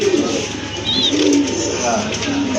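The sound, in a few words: pigeon cooing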